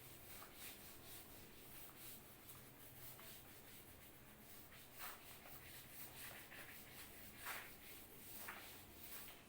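Duster or cloth rubbing chalk writing off a classroom board in repeated short strokes, each swipe a soft, close scratchy whoosh, continuing steadily without talk.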